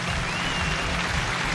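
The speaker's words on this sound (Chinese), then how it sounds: "掌声有请这一队，有请。" Studio audience applause on a Chinese dating show as a couple is welcomed onstage, a steady dense wash of clapping held at even loudness throughout, with no voices over it.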